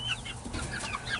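Chickens cluck and chatter softly as they are let out of their coop, several birds overlapping in quiet, busy calls with a few higher squawks, heard faintly at a short distance.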